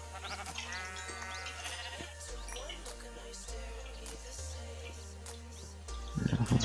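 Sheep bleat in a Minecraft world, wavering cries repeating over steady background music and faint bird chirps, with a burst of louder noise at the end.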